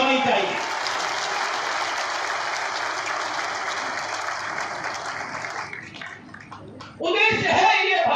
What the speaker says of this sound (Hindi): तालियां गड़गड़ाहट की